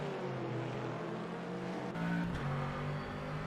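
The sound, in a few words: Chevrolet GT3 race car engine in rFactor 2 sim racing game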